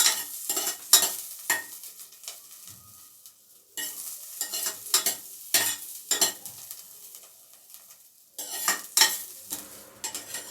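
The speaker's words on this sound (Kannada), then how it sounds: "ಹಸಿಮೆಣ್ಸಿನ್ಕಾಯಿ ಒಂದು 2 ಡ್ರಾಪ್ ಎಣ್ಣೆ ಹಾಕಿಬಿಟ್ಟು ಇದನ್ನು ಹಸಿಮೆಣ್ಸಿನ್ಕಾಯಿ ಚೆನ್ನಾಗಿ ಹುರ್ಕೊಳ್ಳೋಣ." Green chillies frying in a couple of drops of oil for a green pea pulao, with repeated bursts of stirring and scraping over a light sizzle, close and fairly loud, no voices.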